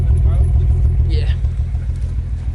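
A 2010 BMW 135i (E82) engine idles with an uneven, loping misfire, likely from failing ignition coils; a steady close rumble pulses throughout while people talk briefly over it.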